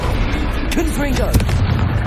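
Fiery Confringo explosion spell in the video game Hogwarts Legacy, a couple of sharp bursts cutting through dense, loud combat noise while a voice shouts over the action.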